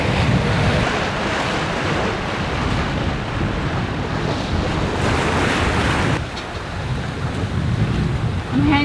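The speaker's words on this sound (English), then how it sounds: "downwind, waves are going with us, we're surfing" Ocean waves and gusting wind while a sailboat surfs downwind through the West Indies, a loud, continuous rushing roar with wind buffeting the microphone and no break.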